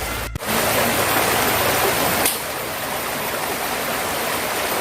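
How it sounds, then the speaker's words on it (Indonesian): A small, gently flowing river on a plantation, with clear water over stones, gives a constant soft rushing hiss, close and steady, with a faint bump near the start and no voices. "Namun sungai di sini tidak memiliki arus yang deras."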